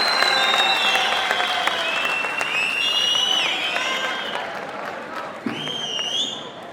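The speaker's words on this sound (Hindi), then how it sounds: "जोरदार तालियां शिवेंद्र के लिए।" A lively audience at a Hindi poetry gathering (kavi sammelan) at BHU breaks into loud applause as poet Shivendra Mishra is welcomed, with sustained clapping and a few scattered voices and whistles in the crowd.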